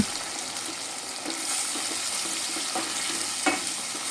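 Paneer bhuna masala fried and stirred in a pan with a splash of water: a constant close sizzle with scraping spoon strokes and small clinks, one sharper knock near the end, no voices.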